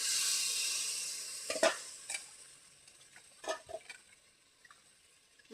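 Potatoes coated with turmeric, salt and chilli sizzle in a pan while a spoon stirs them, with a few scraping clinks and bursts of sizzle standing out against a steady hiss.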